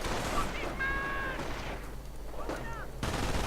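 Machine gun fire from an MG bunker in a real-time strategy game, bursts of rapid gunshots in a dense battle mix with tonal sound effects, under continuous spoken commentary.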